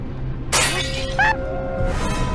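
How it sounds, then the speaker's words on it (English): A large piece of glass falls and smashes nearby in one sharp, loud crash, followed by brief tinkling fragments and a lingering ring. "A huge piece of glass fell and smashed just a step from another psychic, Olena Kurilova."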